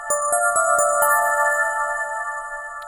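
Shimmering FM synth bell notes from the EFM1 synthesizer played in a quick run, with delay repeats trailing and ringing out into a lingering tail; no voices.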